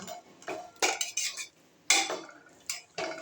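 A metal spoon scraping and clinking against a pot while pulao is stirred on a medium gas flame, several irregular close scrapes and knocks with short pauses between, alone without speech.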